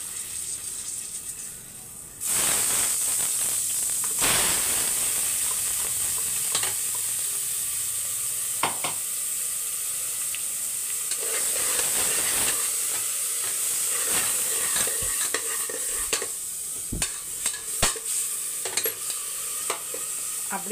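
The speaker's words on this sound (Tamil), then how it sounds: "அப்படியே ஒரு 5 நிமிஷம் வதங்கட்டும்" Ground masala paste sautéing in a pan gives a sustained loud sizzle and hiss with scattered scraping stir strokes, close by and steady for the whole stretch, with no voices.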